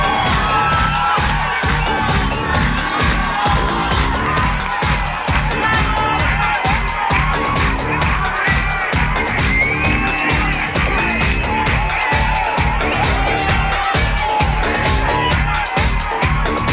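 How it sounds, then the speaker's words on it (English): A huge festival crowd cheers and shouts continuously at a loud, steady level, with whoops and excited voices over a thumping dance beat that pulses evenly throughout. "Look at the size of that fucking crowd."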